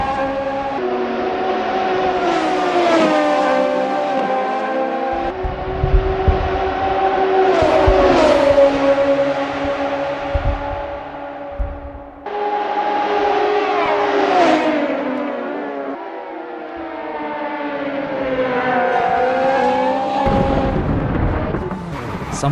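Radical S race cars revving hard in Assetto Corsa club racing, loud sustained engine tones sweeping up and down in pitch across several gear changes, continuous throughout with no pauses.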